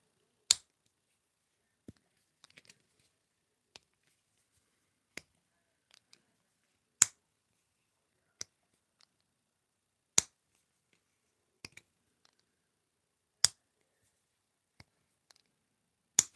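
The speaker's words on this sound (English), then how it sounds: "Some clicking noises." A Lego toy gives sharp, isolated clicks at irregular intervals, sometimes in quick pairs, crisp and close in an otherwise quiet room.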